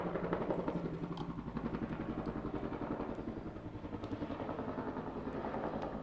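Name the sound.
helicopter flying overhead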